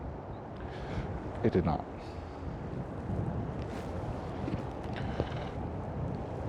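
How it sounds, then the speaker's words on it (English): Outdoor wind buffets a microphone in a continuous low rumble during wildlife filming, with a brief spoken remark partway through. "Here I was thinking that the wind was going to decrease."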